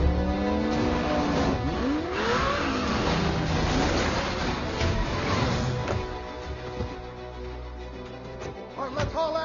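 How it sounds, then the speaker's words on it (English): Several vehicles arriving at a base in an action film scene from The Fate of the Furious, with engines rumbling and revving steadily under a dense, busy soundtrack, without speech. "Five vehicles just reached the base."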